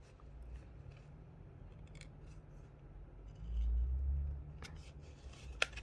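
Backing is peeled off double-sided tape, a bit at a time, while a model Bronze Age pit house is assembled, making faint close crackles and small sharp ticks over a low steady background hum.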